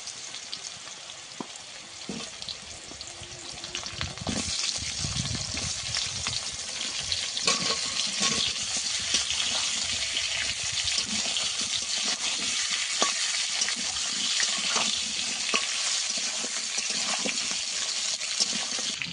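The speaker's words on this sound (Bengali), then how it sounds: "ভাজা হলে আলুগুলো দিয়ে দেবো।" Potatoes frying in oil with chopped onion and panch phoron, making a continuous sizzle with scattered stirring taps and bursts of louder spluttering, close by, with no one speaking.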